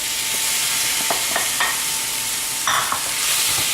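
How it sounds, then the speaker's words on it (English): Sweet corn and cherry tomatoes stirred in a hot pan for an eggplant ratatouille: a constant frying hiss with a few distinct scraping knocks from the utensil, near and unaccompanied by speech. "Give that a stir"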